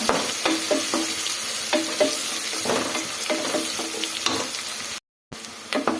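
Cumin and spices fry in a pan for an Indian hesarbele bath, a loud continuous sizzle broken by regular scraping stirs, with a brief dropout near the end.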